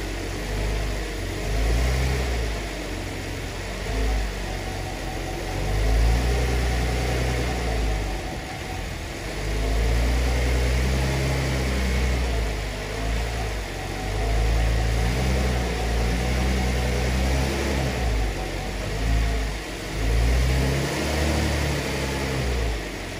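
A 2008-2014 Cadillac CTS engine idles with a steady low rumble and slight pulsing, close and continuous with no talk.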